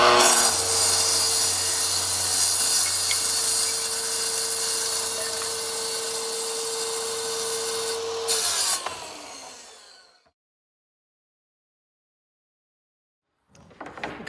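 A track saw plunge-cuts a quarter inch deeper to trim barnwood planks, a loud, steady whine running for about nine seconds before spinning down into silence, then a brief burst of noise at the end.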